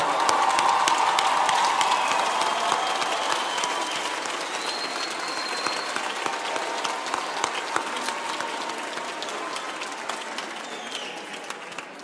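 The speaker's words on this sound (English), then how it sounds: "Let's stand up and give a round of applause." Large audience at a Gauteng cultural event giving a standing round of applause, a dense wash of many hands clapping that starts strong and slowly tapers while staying sustained.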